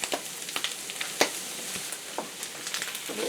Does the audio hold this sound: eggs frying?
yes